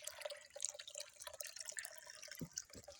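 Water from a timed public tap splashes and trickles quietly outdoors in a steady, slightly uneven stream, with faint drips and background noise.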